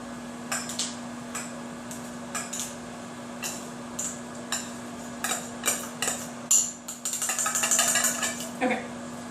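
A spoon scrapes and taps drained canned tiny shrimp into a dish, a sparse run of light metallic clinks and scrapes that quicken into a brief rattle near the end, with a steady hum underneath.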